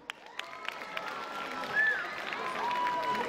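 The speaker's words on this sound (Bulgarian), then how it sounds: "Искам да посрещате с по-бурни аплодисменти" At an outdoor Nikulden holiday concert in Burgas, a crowd's scattered claps build into broader applause with a few whistles and cheers, moderately distant and filling the whole moment.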